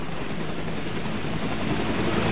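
Helicopter at a landing pad during the unloading of passengers, a steady loud rotor and engine roar filling the whole stretch without a break, with no voices heard.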